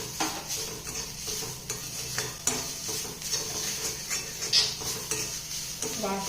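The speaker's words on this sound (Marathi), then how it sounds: "याला मीडियम गॅसवर चांगलं परतून घ्यायचं आहे." Potato and seasoning mix being sautéed in a pan over medium gas flame, with a soft steady sizzle under repeated scraping and clinking stirring strokes, close and moderately quiet throughout.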